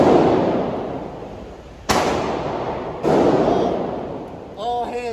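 Two sharp, loud .40 caliber handgun shots ring out at an indoor gun range, spaced about a second apart over a noisy, reverberant background, followed by a brief tonal squeal near the end.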